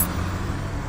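Steady road noise of cars and buses streaming past on a highway in the Chicken Royale video game, a continuous mid-level whoosh of traffic with no talk over it.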